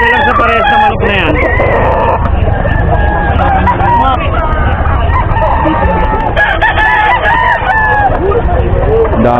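Roosters crow and chickens cluck at the busy Bocaue pet market in the Philippines, loud and close over constant crowd chatter, with people talking nearby and a dog occasionally heard.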